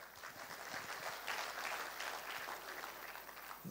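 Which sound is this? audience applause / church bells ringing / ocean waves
audience applause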